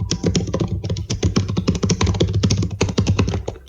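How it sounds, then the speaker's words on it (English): Rapid, continuous clicking of keys on a computer keyboard, close and steady, with dense uneven keystrokes and no talk. "The typing returns."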